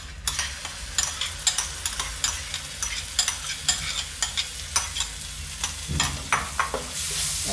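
Ground masala paste for paneer masala stirred in a pan over a low flame, a regular rhythm of spoon scrapes over continuous frying sizzle, close and fairly loud with no talk.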